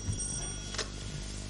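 A telephone rings on a theatre stage, a brief bell-like trill heard faintly and briefly against a hum of background noise.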